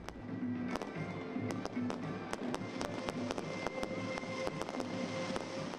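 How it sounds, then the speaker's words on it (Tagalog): Fireworks popping and cracking at a Chinese New Year display in Binondo, Manila, in a steady series of sharp bursts over a constant rumbling background, heard from a distance outdoors. "nagliwanag ang paligid sa makulay at maingay na community fireworks display."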